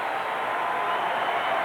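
Steady, dense basketball crowd noise at a Knicks home game against the Washington Bullets, a loud unbroken roar of many voices filling the whole moment.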